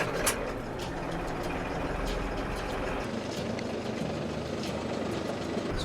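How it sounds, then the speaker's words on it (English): A farm tractor's engine idles with a steady, low diesel rumble, a constant mechanical drone at moderate volume with no voices over it. "Time to get in the tractor."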